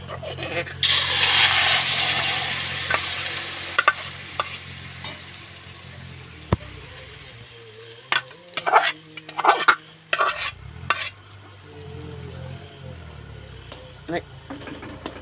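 Butter made from cow's milk cream sizzles in a kadai as ghee begins to cook, a broad steady frying hiss with intermittent sharp clinks and stirring scrapes in the middle, no talk over it.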